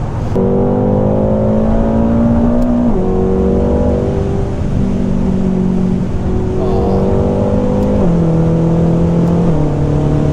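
Loud turbocharged V8 droning under hard acceleration in an 800 bhp BMW F13 M6, pitch climbing through gears with brief drops at each shift, heard from inside the car.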